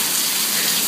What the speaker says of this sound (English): There's like an inch of rain on our porch.